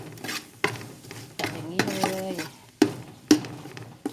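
Duck stir-fried in a pan with a bagged five-spice braising mix: scraping and stirring, spatula knocks on the pan and a light sizzle, with a couple of sharper clacks near the end.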